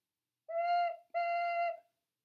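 Turtle-shaped ocarina from Mexico plays two owl-like hoots, clear pure whistling tones of equal length with a brief gap between them, close and solo in silence.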